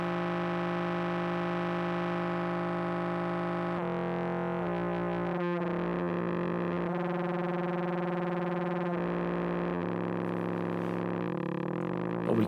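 A synthesizer tone passes through a Blue Lantern Simple ADSR v2 envelope generator with the sustain stage raised. It is a steady, buzzy note whose texture and level shift and pulse partway through, with no talking.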